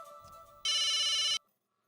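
A phone ringtone sounds indoors, a soft melodic tone that jumps to a loud, sustained ring for under a second, then cuts off into silence.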